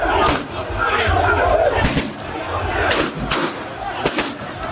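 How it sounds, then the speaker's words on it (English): Police and military gunfire at a protesting crowd at a collation centre in Techiman South, loud cracks and booms scattered over a churning crowd roar, with voices talking over the commotion. "Then the shooting starts."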